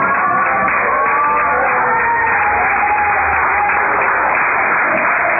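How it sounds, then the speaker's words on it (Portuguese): Church congregation claps for Jesus, a steady wash of many hands filling the room, with a voice or singing faintly audible underneath. "Pode assentar, bater palmas agora a Jesus."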